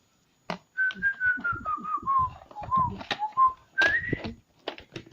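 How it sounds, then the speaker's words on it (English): Someone whistles a wandering tune close by, with steady melodic phrases over soft background clatter. "I've just whistled so I don't get a copyright strike"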